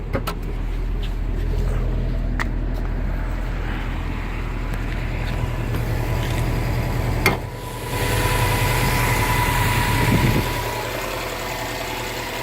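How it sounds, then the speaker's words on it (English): A 2018 Subaru WRX STI engine idles steadily with a low, throbbing rumble and constant vibration, close and loud, briefly dipping before settling back. "We've got here pulsations now of the engine vibrating throughout the engine's noticeably vibrating."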